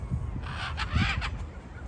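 Free-flying macaws outdoors at Seal Beach give harsh, raspy squawks, a few calls in quick succession, fairly close and loud over a steady background murmur.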